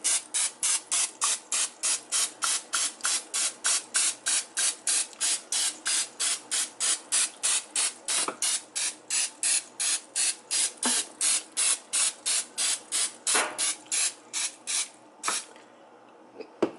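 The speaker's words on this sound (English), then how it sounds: "then we're going to spray it with some butter spray" Rapid, evenly spaced hissing bursts from an aerosol can of butter spray spray continuously for about fifteen seconds, close and loud, with a few longer pauses near the end.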